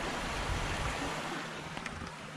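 Water laps steadily beside a pub at night, a continuous soft wash of small waves against the bank with faint wind noise, no voices.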